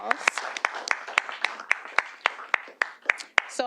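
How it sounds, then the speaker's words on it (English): Sparse, distinct handclaps from a small audience at a city board of directors meeting in Little Rock, a dozen or so spaced claps heard fairly close and moderately quiet, with no speech over them. "If you would give them a round of applause."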